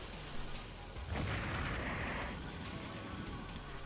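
A bomb goes off in the Mushihimesama shoot-'em-up, a faint burst that swells into a sustained rumbling wash of explosion noise over constant background game sound.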